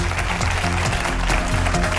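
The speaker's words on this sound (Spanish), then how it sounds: "Un fuerte aplauso para él." Studio audience applause on a Spanish television comedy news show, a dense, steady wash of clapping at full level throughout, with music or tonal sound layered underneath.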